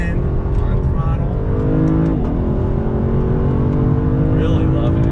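A 2019 Lexus LC 500 sports car accelerates hard on a track, its engine a steady loud roar with rising pitch throughout, under a driver's talk.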